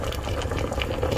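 Alupi, an Ilonggo sticky rice cake, simmers in water, giving a steady close bubbling and hissing boil with no pauses.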